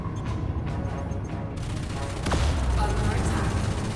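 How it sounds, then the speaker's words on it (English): Autocannons fire from a ship in the space combat game Elite Dangerous, a rough burst of rapid shots over a dense, noisy background rumble that grows louder halfway through. "So I'm going to put my auto cannons on him now."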